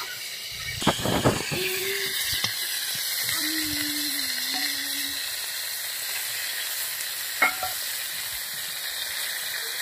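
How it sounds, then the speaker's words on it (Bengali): Large freshwater bam eel fish fry in hot oil, a loud continuous sizzle and hiss close by, with a few clinks of utensils early on and occasional faint tonal sounds over the frying. "মাছটা ভাজা হয়ে গেছে।"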